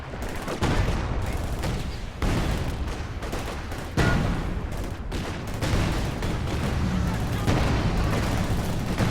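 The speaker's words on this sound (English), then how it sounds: "You should see Barrage coming in on this squad." Artillery barrage slamming into an infantry squad in a WWII real-time strategy match, a dense, continuous roar of booming impacts and gunfire with repeated sharp onsets, loud and sustained throughout.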